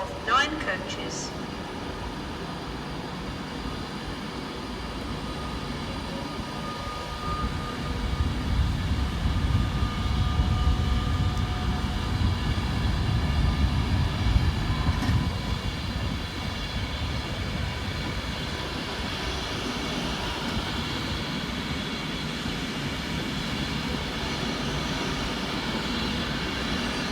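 Avanti West Coast Class 390 unit 390-010, a nine-coach electric train, departs Crewe station with a rising, steady rumble that swells mid-way and lingers as it pulls away, with voices at times.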